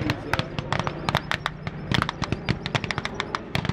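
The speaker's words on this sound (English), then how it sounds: "You can hear the machine gun on the Stug." A StuG assault gun's machine gun fires during a WWII battle reenactment, a fast string of sharp, close cracks in irregular bursts, with a voice talking faintly beneath the shots.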